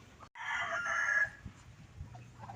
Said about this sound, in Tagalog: Iba-ibang klase dito ang alaga natin na mga manok.